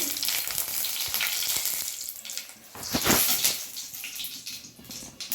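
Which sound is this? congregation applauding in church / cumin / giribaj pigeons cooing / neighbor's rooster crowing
cumin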